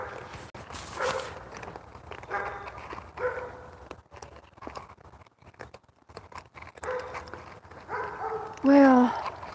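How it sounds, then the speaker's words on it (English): Dogs bark outdoors in a quiet natural setting, a few short yelps scattered through soft ambient noise, with one louder, closer bark burst near the end; a person speaks briefly. "Dogs. Goodness."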